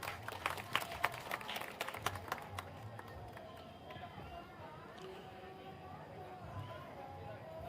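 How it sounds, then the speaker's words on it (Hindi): Crowd applause at an outdoor political padyatra gathering welcoming a district livestock farmers' association president, a dense patter of many hands with a few sharper claps early on, sustained at moderate distance and fading slightly. "मैं सर से आग्रह करूंगा कि एक बार जोरदार तालियों से इनका स्वागत करिए"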